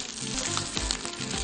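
Fat, tail fat or testicles frying with peppers in hot oil for a liver, heart and kidney dish, a steady close sizzle with occasional louder crackles and no voices.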